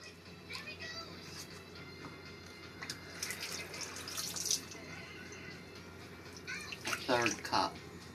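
Water runs from a kitchen tap into a measuring cup in soft, intermittent splashing bursts, heard faintly beneath someone talking nearby.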